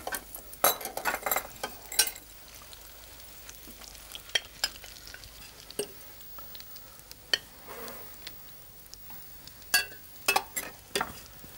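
Slices of pain perdu brown in a pan with a soft background sizzle, overlaid by scattered clinks and scrapes of utensils, crockery and glass as plates are garnished nearby.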